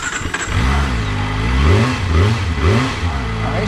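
A motorcycle engine revs hard in repeated surges during a rear-tire burnout attempt, rising and falling in pitch, loud and close.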